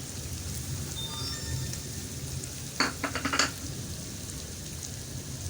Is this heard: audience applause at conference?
no